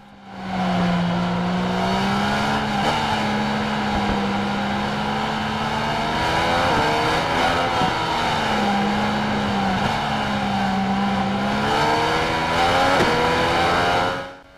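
A Yamaha MT-09 motorcycle races in the Ride 4 video game, its engine droning loud and steady, then revving and dropping through gear changes as it brakes and accelerates.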